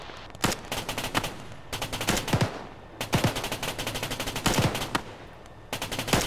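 Bursts of M240 machine gun fire in a military video game, several long rattling strings of rapid shots separated by brief pauses, loud and close.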